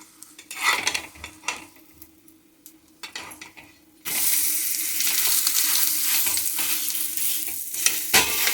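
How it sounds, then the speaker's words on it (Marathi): Thalipeeth flatbread with sesame seeds roasting on a hot pan, pressed down and flipped; scraping and stirring clatter at first, then a steady loud sizzle fills the second half with a sharp utensil knock near the end. "पद्धतीने आलटून पालटून हे थालीपीठ भाजून घ्यायचं।"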